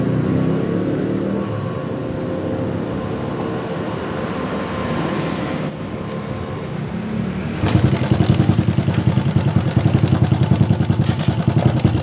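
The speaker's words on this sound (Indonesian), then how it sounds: "kita nyalakan dulu motornya ya." A motorcycle engine starts partway through and settles into a steady, close idle with a rapid, even pulse, after a quiet stretch of low background hum.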